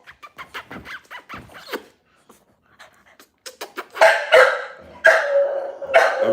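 An American Bully dog close by gives a run of short panting huffs and yips, then several louder, rough bursts of barking and growling near the end.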